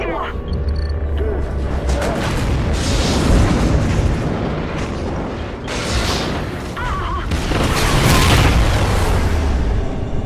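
Explosions destroying a space station in a film trailer, heavy rumbling booms and bursts that swell and recede over about ten seconds, loud and close, with dramatic sound effects layered in.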